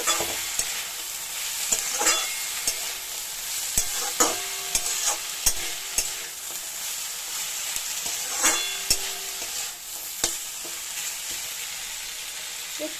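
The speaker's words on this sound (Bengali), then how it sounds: "দিয়ে এবার এটাকে আমি পুরো ভাজা ভাজা করব কোনো রকম জল দেবো না" Green jackfruit and prawns fry dry in a pan with no water added. A steady close sizzle runs throughout, broken by repeated scraping stir strokes, with no talking.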